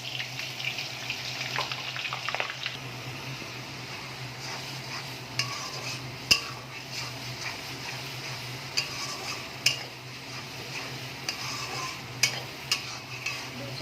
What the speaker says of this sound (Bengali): দু 4 মিনিট পেঁয়াজটাকে একটুখানি তেলের সাথে কষিয়ে নেব।